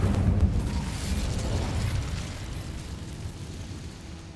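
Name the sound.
Incendio fire spell explosion, Hogwarts Legacy video game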